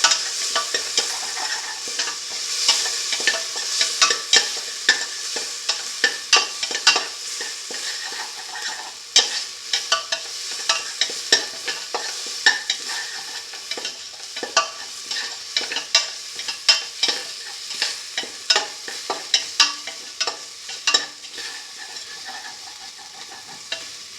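Chili fennel paste sauteing in a pan, an ongoing sizzle broken by repeated scraping and stirring strokes of a utensil against the pan, close and moderately loud.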